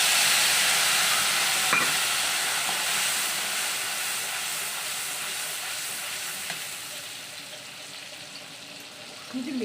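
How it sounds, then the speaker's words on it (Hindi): Fenugreek seeds tempered into a gravy, sizzling and hissing steadily close by as the bubbling frying noise slowly eases off, with no voices over it. "उसके बाद इसमें मेथी दाना से छौंक लगा रही हूँ।"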